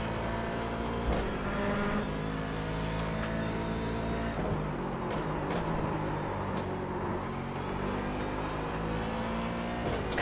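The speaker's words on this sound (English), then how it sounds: "Much better on the throttle through there this time. Bouncing off the limiter" A race car in the iRacing sim at Watkins Glen, IMSA series, engine held high in the revs and repeatedly bouncing off the rev limiter, a loud, steady buzzing drone with brief stutters, no talk.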